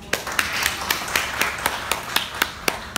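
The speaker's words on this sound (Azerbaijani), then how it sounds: "məncə burada biz alqışlar istəyərdik" Slow, evenly spaced single claps at a Faberlic regional conference in a history museum in Quba, about a dozen sharp hand claps in steady rhythm over a light background murmur.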